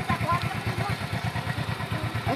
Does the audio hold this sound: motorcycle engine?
yes